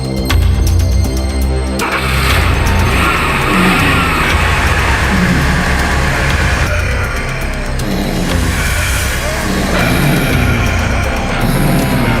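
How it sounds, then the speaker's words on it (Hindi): A car engine running and revving loudly nearby as the vehicle starts and pulls away, a dense continuous roar throughout a tense horror drama scene. "गाड़ी चालू करो।"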